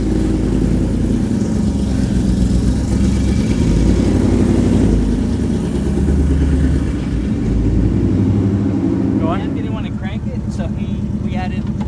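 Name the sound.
supercar engine revving, sounds like an F1 car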